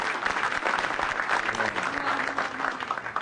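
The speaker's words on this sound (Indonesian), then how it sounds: "Tepuk tangan dong" A stand-up comedy audience applauds, a continuous patter of many hands clapping at moderate volume with faint murmuring underneath.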